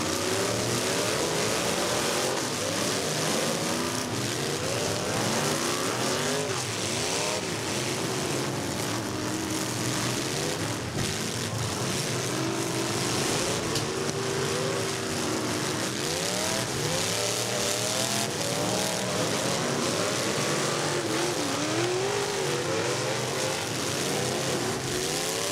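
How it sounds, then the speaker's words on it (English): Pro Stock drag race cars roar at a qualifying heat, a loud, continuous engine drone with rising revving sweeps that fills the whole stretch. "Strange seeing Mike Lambergy out there without the number 4 on the roof of the car"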